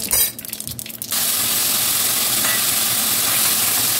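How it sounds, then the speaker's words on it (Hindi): Onion paste for sambhar hits a hot kadhai, followed by a sudden loud, steady sizzle that holds evenly close up after a brief moment of quieter stirring noises. "अब इसमें हम डालेंगे अपना अनियन पेस्ट।"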